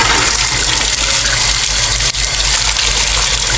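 Water gushes steadily and loudly into a pot, a continuous close splashing rush that holds for several seconds with no talk over it.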